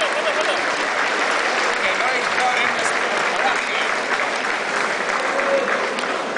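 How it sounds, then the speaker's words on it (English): Sustained applause from a crowd, steady and dense clapping throughout with some faint cheering mixed in. "Give a round of applause."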